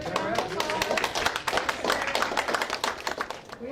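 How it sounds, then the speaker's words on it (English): A school audience applauds a student of the month, a dense patter of many hands clapping at close range, mixed with some voices. "Let's give her a round of applause"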